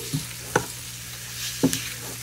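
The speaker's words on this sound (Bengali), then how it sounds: "পনিরটা আমি মশলার সঙ্গে একটুখানি কষিয়ে নিচ্ছি" Paneer sautéing with spices in a pan: a few sharp spatula scrapes and clinks spaced out over a faint, steady sizzle, with no talking.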